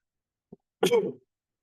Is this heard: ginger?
no